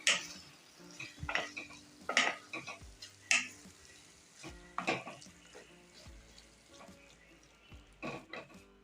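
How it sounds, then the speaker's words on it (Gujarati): A spoon scrapes and stirs a spice mixture in a pan for ivy gourd curry, with irregular clinks and light sizzling, moderately quiet, no voices. "અને અડધો બધો મસાલો આપણે મિક્સ કરી દઈશું"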